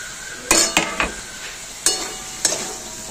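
Chopped tomato goes into poppy seed paste frying in a pan for a vegetarian ridge gourd and potato posto. A spatula clinks and scrapes against the pan several times over a steady sizzle, close up.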